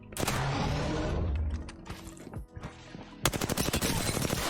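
Rapid bursts of R-301 rifle fire through a 2x scope in Apex Legends, loud and close, with a steady stream of automatic shots, a short pause, then another sharp volley of evenly spaced rounds.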